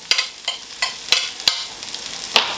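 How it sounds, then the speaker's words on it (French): Onions cooking in olive oil in a frying pan hiss steadily while sharp spatula taps and scrapes land about every half second, close and fairly loud, with no voices. "lancer la cuisson de mes oignons dans de l'huile d'olive aussi"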